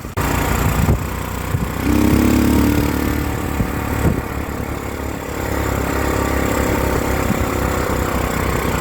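A restored Honda XL250 motorcycle engine idling steadily with the choke on, a loud, continuous mid-pitched throb with only slight shifts in tone.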